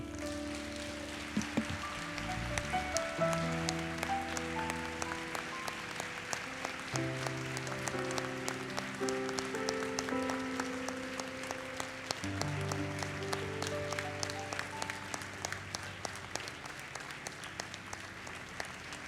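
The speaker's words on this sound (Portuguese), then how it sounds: "Você pode aplaudir o Senhor" A church congregation claps steadily for many seconds during a worship service, with instrumental music playing underneath and no speech.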